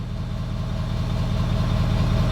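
A truck fitted with a Diamond Eye performance exhaust idles steadily, a low, even rumble heard close at the exhaust tip, with no talking.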